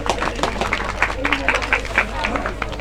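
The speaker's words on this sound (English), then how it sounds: "Big round of applause to Steve." Audience clapping for a volunteer during a live demonstration of dressing a knight in armour, a scattered round of claps amid crowd murmur and voices, moderately close.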